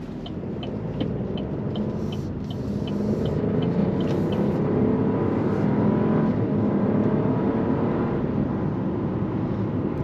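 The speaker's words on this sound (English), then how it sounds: "You can hear the engine rev, and it sounds pretty good." A 2024 Buick Encore GX Sport Touring revs during a test drive, its small engine giving a steady interior rumble that swells and holds at a higher pitch, with faint periodic ticks over the drone.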